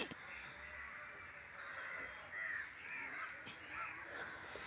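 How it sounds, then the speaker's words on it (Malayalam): Crows caw outside the side of a house, several faint, distant calls scattered over a quiet outdoor background. "അപ്പോൾ നമുക്ക് കുറേ കാക്കകളെ കാണാം."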